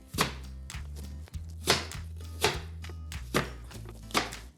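A knife chops through red and green apples on a cutting board, giving about six sharp, evenly spaced thunks close by, with a low musical backing in between.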